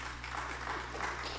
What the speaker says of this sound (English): guys, please refrain from clapping